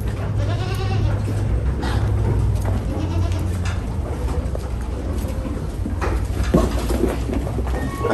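Goat kids bleat in a Jamaican goat pen, several high cries rising over constant low farm noise, with birds faintly calling nearby.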